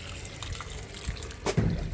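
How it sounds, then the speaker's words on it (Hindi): Water poured from a tap or container into a 50 litre drum planted with a bael tree, a close, wet splashing and trickling fill with a brief louder gush near the end. "ये डाल दी मैं बेलपत्री के ड्रम में पानी"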